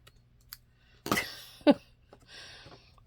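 Scissors cut a piece of paper off a craft page, giving a short crisp snip and a louder close slice, followed by a softer rustle of paper being handled in a quiet room.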